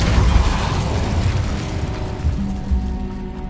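Depulso spell cast in the Hogwarts Legacy video game, a deep booming blast with rumbling low impact that fades into a lingering tonal hum.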